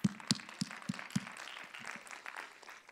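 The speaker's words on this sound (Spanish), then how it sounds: "Un aplauso." A handful of sharp, distinct claps at a security conference talk, starting fairly loud and then thinning into softer, scattered clapping and faint room noise, sounding like a small or sparse audience.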